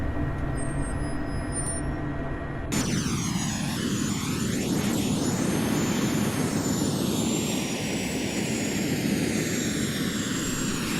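Cessna Mustang business jet in the FSX flight simulator, taxiing with a loud steady engine whine and shifting turbine tones throughout, with no voices.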